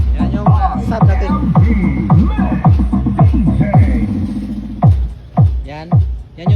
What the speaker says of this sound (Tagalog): Yan yung tunog ng sub natin boss dito sa auxiliary.